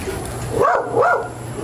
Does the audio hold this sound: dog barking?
yes